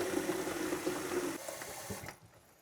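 Water runs steadily into a container being filled for emergency drinking storage, a close, continuous pouring rush that cuts off abruptly near the end, leaving a few faint drips and handling sounds.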